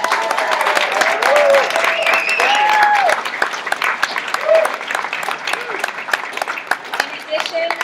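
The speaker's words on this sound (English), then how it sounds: "I just want to give a round of applause for Crystal for all this" An audience claps for Crystal at a design event, dense applause running throughout while a voice sounds over the top, with a few sharper claps near the end.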